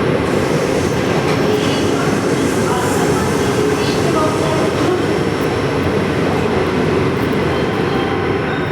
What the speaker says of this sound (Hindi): 6:16 पर हमारी ट्रेन पहुंची है नासिक रोड